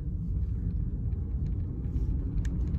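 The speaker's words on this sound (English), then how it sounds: "Now I'll accelerate" A VW e-up electric car accelerating, heard from inside as a steady low road rumble with faint mechanical ticks, even and unbroken throughout.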